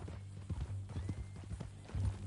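Horse hooves clip-clopping in Red Dead Redemption 2, a steady run of soft thuds over a low rumbling bed, with brief louder hits near the end.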